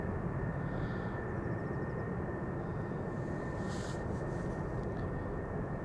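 Jet airliners departing at Amsterdam Schiphol Airport, among them an Air Baltic, an A320neo and Delta jets: a steady, loud broadband engine roar held without letup, with a faint higher whine riding over it.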